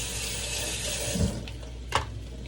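Tap water runs steadily into a sink while avocados are rinsed, a soft continuous hiss with a couple of brief splashing thuds as the fruit is handled.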